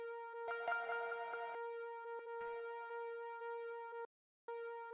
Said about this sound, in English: which is kind of not an effect at all, but rather like a pad and an arpeggio fused into one thing.